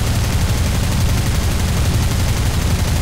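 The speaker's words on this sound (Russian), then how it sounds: "открываю огонь из 20-миллиметровой пушки" Continuous rapid gunfire from a Yak-1's 20 mm aircraft cannon in War Thunder roars without pause, a dense, loud rattling burst of heavy cannon shots filling the whole stretch.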